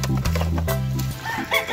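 Chickens clucking and squawking up close right after being caught by hand, with busy agitated bird calls and some rustling, no speech.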